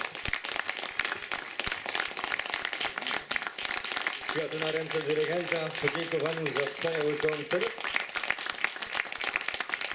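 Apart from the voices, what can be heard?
audience applause for youth brass band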